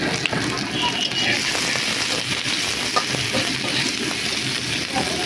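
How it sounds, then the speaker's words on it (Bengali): Chopped onions frying in hot oil for a potato and egg curry, a dense continuous sizzle like steady rain, loud and close throughout. "আমি এটা খুব অল্প সময়ের জন্য ভাজবো পেঁয়াজটা।"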